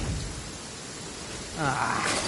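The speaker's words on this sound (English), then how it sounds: "Lightning storm!" A thunderstorm with rain in the video game Genshin Impact, heard as a dense, steady hiss of rainfall that swells slightly near the end, where a brief voice-like sound rises over it.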